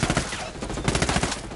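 Rapid gunfire in the video game Ghost Recon Wildlands, a dense loud burst of automatic shots in quick succession, with a faint voice underneath.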